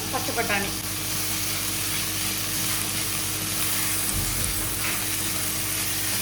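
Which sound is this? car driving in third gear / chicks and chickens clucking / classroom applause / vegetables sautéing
vegetables sautéing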